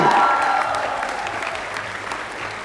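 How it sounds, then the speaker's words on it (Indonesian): A university audience at UAI applauds, a broad wash of clapping that starts loud and gradually fades over a couple of seconds. "Tepuk tangan untuk UAI."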